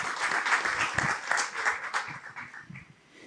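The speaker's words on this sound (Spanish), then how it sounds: "Un aplauso a los zacapanecos que están presentes." Conference audience applauding at a Spanish-language talk, a moderate patter of many hands with a few sharper claps, gradually thinning and fading out over about three seconds.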